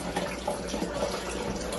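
Wort drains from the mash in a homebrew setup, a steady faint trickle and splash of liquid pouring continuously at close range with no talk.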